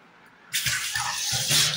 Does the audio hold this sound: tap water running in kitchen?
yes